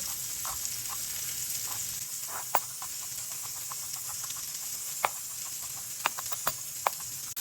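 Steady sizzle of chicken pieces frying in browning butter in a pan, a continuous hiss with occasional sharp pops and crackles, close and with no talking.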